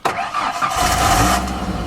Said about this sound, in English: we're gonna start the truck up so you guys can see that there is no fuel in there